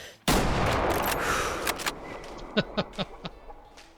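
A rifle shot booms suddenly in the Way of the Hunter hunting game, followed by a long rolling echo and a series of quick clicks and clacks as the gun is worked, with no talk.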